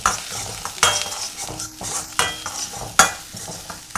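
Chopped carrots and beans tumble into a pot of chicken soup broth, giving a few sharp clattering drops and stirring scrapes over a soft continuous simmer, close and fairly quiet with no talking.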